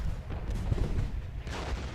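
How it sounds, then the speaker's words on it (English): Union cannon artillery in the Ultimate General: Gettysburg game, a dull continuous rumble of distant booming fire with low thumps rolling under battlefield noise. "Now the Union cannons are firing at Archer, and they're taking some losses there."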